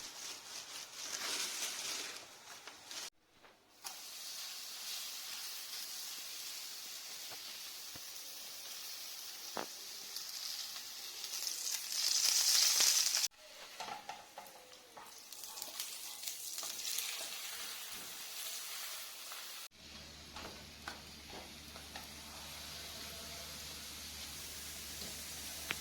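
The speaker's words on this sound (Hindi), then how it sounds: "अभी हम दूसरी रोटी बेल के और पका रहे हैं।" Maize flatbread (makki ki roti) cooking on a hot griddle gives a steady, close frying sizzle and hiss that runs the whole time, with a few soft stirring or handling noises and no talk.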